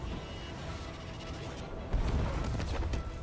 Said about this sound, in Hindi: ओ ये ब्लास्ट हो गया